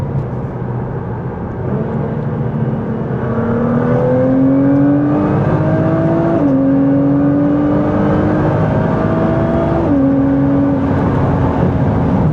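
A Nissan GT-R Nismo with stock injectors, cats and pumps and an aftermarket 4-inch catback exhaust revs up in rising, stepped pulls, a loud close engine drone climbing through several gear-like shifts.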